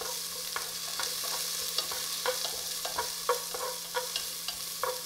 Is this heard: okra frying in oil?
yes